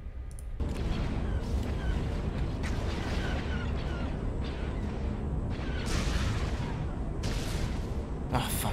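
Sustained barrage of cannon and missile fire in a space battle game, dense rumbling blasts and bursts continuing loudly throughout with brief sharper flares, a voice speaking over the combat.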